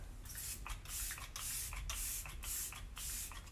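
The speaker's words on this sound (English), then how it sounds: "the finishing touch is refreshing spray" Arbonne Let It Set refreshing makeup spray misted in a series of short, soft hissing pumps, about five bursts in a fairly even rhythm, close and quiet with no talk.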